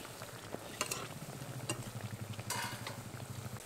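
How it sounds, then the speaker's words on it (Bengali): Taro leaves frying crisp in oil in a pan, a faint steady sizzle with a few soft clicks of stirring and turning, quiet and close, no voices. "এবার অন্য দিকটাও খুব ভালোভাবে এরকম মুচমুচে করে ভেজে নেব।"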